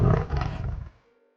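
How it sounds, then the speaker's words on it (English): A cartoon tiger lets out a single loud, close roar that fades quickly to silence, part of a children's alphabet song. "T for tiger."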